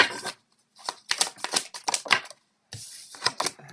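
Playing cards being drawn and handled during a tarot-style card reading, a series of close, crisp flicks and slides in quick bursts separated by short pauses.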